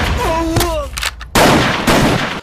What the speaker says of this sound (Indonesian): Deraj kemudian membawa keluar Nintya dan mengajak Agastya untuk beradu senjata.